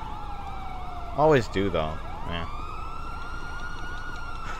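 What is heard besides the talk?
police car siren in video game GTA 5 LSPDFR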